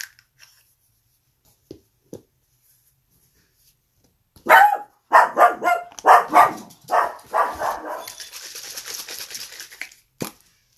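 A dog barks repeatedly indoors, a loud close burst of about half a dozen sharp barks followed by growly, rustling noise, after near silence.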